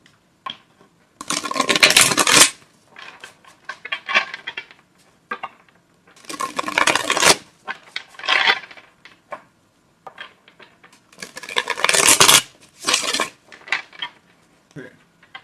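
Bursts of crisp riffling and clattering as tarot cards are shuffled, several rapid shuffles separated by brief pauses, close and fairly loud.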